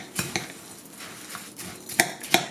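A spoon stirs granola ingredients in a mixing bowl, with soft scraping and rustling broken by a few sharp clinks against the bowl, close and fairly quiet, with no talking.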